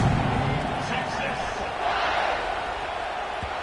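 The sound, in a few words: football stadium crowd buzzing after a touchdown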